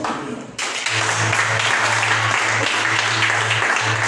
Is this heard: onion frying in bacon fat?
no